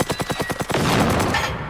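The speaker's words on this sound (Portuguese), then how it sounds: "só dei uns tiros mesmo, só pra dar um susto no robô" Rapid gunfire from a weapon aimed at a robot in the survival shooter Generation Zero, a string of sharp evenly spaced shots that runs into a dense, sustained burst of loud rattling fire.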